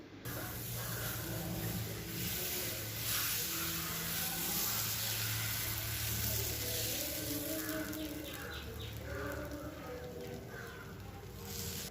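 Moong dal dosa batter for pesarattu meets a hot tawa with a loud, steady sizzling hiss that runs unbroken for the whole stretch.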